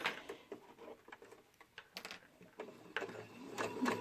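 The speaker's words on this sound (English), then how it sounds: "So I'm going to go ahead and just sew along here." A sewing machine runs along a dress seam, a quiet uneven patter of needle strokes with short pauses and handling clicks, fairly faint and close.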